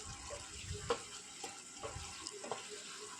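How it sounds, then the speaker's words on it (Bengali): Pieces of pointed gourd (potol) are stirred in a simmering curry gravy, with a steady wet bubbling and soft sizzle under a few gentle spoon scrapes, close and fairly quiet. "এবার পটলগুলোকে ছেড়ে দিয়ে একটু নাড়াচাড়া করে নেব।"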